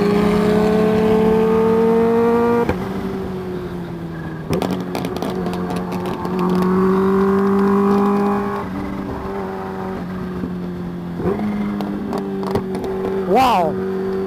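A 950-horsepower Corvette ZR1 sports car accelerates hard in a street race, its engine note climbing through gears with sharp shifts, loud and close, then a brief rising whine as it rushes past, with people talking over it.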